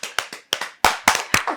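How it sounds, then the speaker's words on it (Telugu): Several bursts of hand clapping from a few people at a family's home, close and sharp, in uneven groups of quick claps with short pauses between them. "Wow, claps claps."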